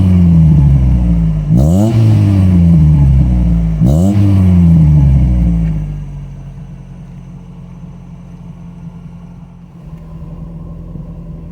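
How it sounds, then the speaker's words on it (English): A Rover Metro engine revs hard twice in quick rising-and-falling blips, loud and close, then drops back to a lower rumbling idle with a soft exhaust burble as the revs fall away. "as you drop the revs, you get that little burble in the exhaust."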